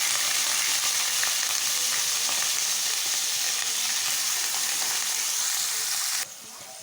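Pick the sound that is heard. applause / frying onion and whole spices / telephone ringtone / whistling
frying onion and whole spices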